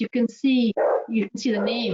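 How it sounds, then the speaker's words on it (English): A pet dog barks at home in a few sharp bursts, mixed in with and partly under a person's steady talking. "I'm working from home. That's my dog."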